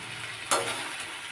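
Spring onion stalks fry in a pan with a steady, close hiss that jumps briefly louder midway, as if stirred or tossed, then settles back to an even sizzle.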